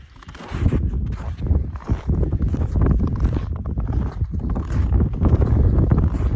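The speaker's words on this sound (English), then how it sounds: "I'm just walking right on top of the snow" Steady crunching footsteps on snow tramp along at an even walking pace during a winter climb of Bald Mountain A, Colorado, close to the microphone, with a low rumble of wind noise underneath.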